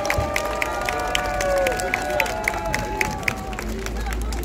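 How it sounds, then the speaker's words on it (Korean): A crowd at an outdoor election campaign rally claps and cheers for a candidate, a busy wash of applause mixed with voices and a few sharp accents from the gathering. "다시 한번 우리 지상욱 후보 뜨거운 박수로 성원해 주십시오."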